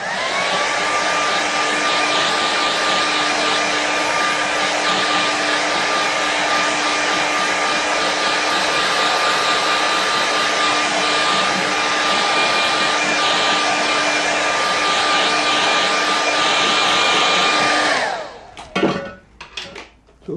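A hair dryer blows steadily and loudly for about eighteen seconds, drying a watercolour painting, then cuts off, leaving a few soft handling clatters.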